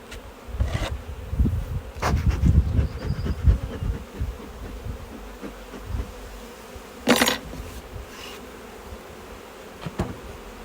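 Honey bees at a hive being fed thin syrup, a constant buzzing hum close by, with thumps and handling knocks of beekeeping equipment scattered throughout and a sharp clack near the middle, no talking.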